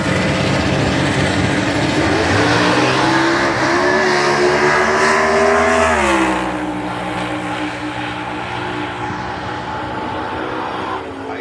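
A drag racing car makes a run at Santa Pod Raceway, with a loud roaring engine note that climbs steadily for about six seconds, then drops sharply as the throttle lifts and fades away into the distance.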